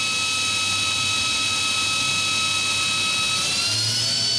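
Steady high-pitched whine of a Cincinnati Milacron Arrow 1250 vertical machining center spindle running at around 6,000 RPM, loud and continuous with a constant tone and no talking.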